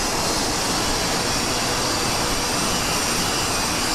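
A jet aircraft in a flight video game taxiing onto the runway, a continuous loud broadband engine roar and whine that holds steady throughout, with no talking.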